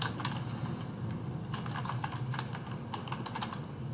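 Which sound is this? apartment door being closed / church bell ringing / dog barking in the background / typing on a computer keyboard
typing on a computer keyboard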